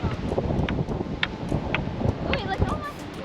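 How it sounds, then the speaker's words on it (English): Strong wind sweeps the beach by Ngkala Rocks on K'gari (Fraser Island), Australia, roaring and buffeting the microphone in steady gusts while people talk close by. "It's very windy."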